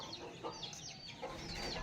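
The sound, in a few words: chickens clucking, a rooster and three hens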